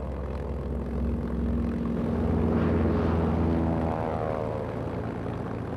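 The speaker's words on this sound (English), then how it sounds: "German planes began an intense bombing campaign against Britain." German propeller warplanes drone overhead during a bombing campaign against Britain, a steady heavy engine roar that swells as the aircraft pass and slowly fades, with no voices.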